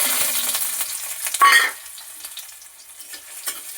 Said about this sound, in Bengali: আলু ভাজা করে যে তেলটা ছিল, সেই তেলেতেই দিয়ে দিচ্ছি পেঁয়াজ কুচি